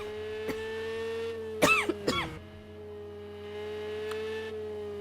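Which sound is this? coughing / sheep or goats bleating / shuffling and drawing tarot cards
coughing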